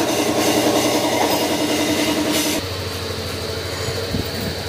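A repaired motorcycle engine, freshly filled with oil and coolant, runs at a steady idle close by, a continuous mechanical hum that drops slightly in level partway through with no talk over it.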